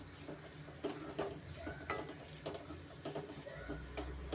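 Amla chitranna rice being stirred in a pan makes repeated scraping and clinking strokes of a spoon against metal, close and soft, with a light sizzle underneath.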